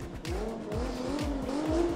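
Cars at a street drag race, in the 2WD Street Drag 6 class, launch off the start line with loud engine roars and rapid repeated gear-like revving sweeps. Tire noise mixes in with the engines.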